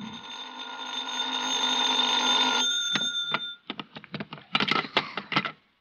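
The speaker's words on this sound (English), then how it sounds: "I was still in bed when the phone rang." A telephone rings as a radio drama sound effect, a sustained bright bell tone lasting a few seconds, followed by a rapid run of sharp clicks and knocks like a receiver being handled.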